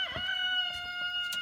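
Chickens on a rainy homestead porch, with a rooster's strained crowing note held steadily over a few short scratchy clucks and shuffles, close and fairly loud.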